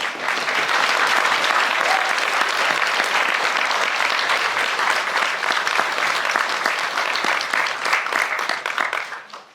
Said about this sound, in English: May we give a round of applause to these speakers